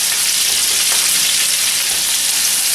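Pork chops sear in a hot pan with butter and oil, giving a steady, loud, close sizzle that holds without a break and has no talk over it.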